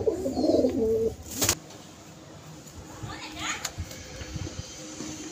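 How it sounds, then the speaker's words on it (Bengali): Three baby pigeons make a soft, brief cooing burst near the start, followed by a sharp knock and then faint background murmur and distant children's voices. "তো বন্ধুরা এই হলো 3টে বেবি পায়রা"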